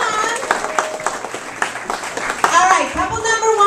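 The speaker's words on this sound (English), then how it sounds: "Let's give her a round of applause, come on." An audience applauds a dance couple at an amateur dancing show, with scattered handclaps under loud chatter, children's voices and crowd noise close by.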